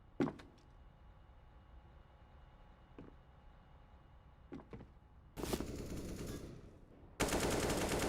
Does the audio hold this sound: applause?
no